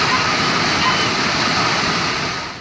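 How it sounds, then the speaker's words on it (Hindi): Torrential floodwater from overflowing rivers in Rajkot rushes in a steady, loud roar with no breaks, the dense wash of churning water holding even throughout. "लगातार हो रही मूसलाधार बारिश के कारण नदियां उफान मारने लगी"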